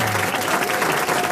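Studio audience applause on a French radio panel show, a brief steady burst of clapping heard alone.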